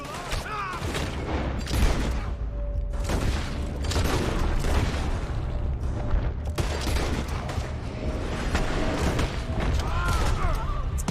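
Gunfire from pistols in the Red Dead Redemption 2 video game, a dense, continuous barrage of shots and booms over game ambience throughout, with no clear gaps.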